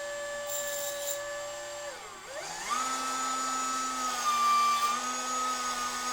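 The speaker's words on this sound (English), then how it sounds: "we're going to take our little wire brush here, put it in there, turn it on, clean up the head of this bolt some" A small powered wire brush spins up on the head of a bolt while a mini bike is assembled, giving a steady close whirring hum that dips briefly and then holds, with no talking.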